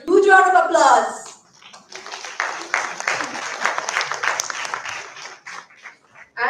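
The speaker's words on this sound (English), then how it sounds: "This truly calls for a huge round of applause" A voice speaks briefly, then a crowd at an IMI Bhubaneswar celebration breaks into several seconds of dense clapping that thins out before another voice returns at the end.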